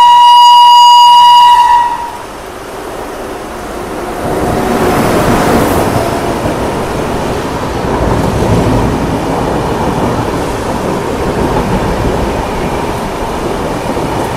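A passenger train on the Pakala junction route from Tirupati toward Coimbatore rumbles past in a loud, steady roar after a brief horn blast at the start, the broadband clatter swelling and holding throughout.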